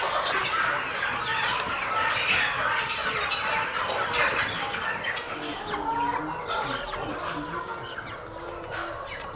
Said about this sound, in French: Servir l'eau et l'aliment aux poulets, les examiner et prendre soin d'eux tout au long de la journée.